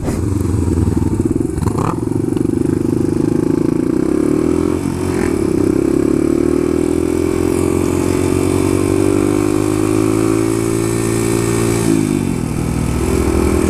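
A Suzuki DR-200 dual-sport motorcycle engine drones steadily while riding, with continuous close, loud single-cylinder hum and pitch shifting as the rider changes speed, and brief clattering knocks near the start.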